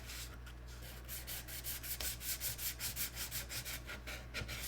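Hand sanding of a wood finish: a steady run of rhythmic rasping strokes, close and moderately loud, repeating evenly over a low background hum with no talking.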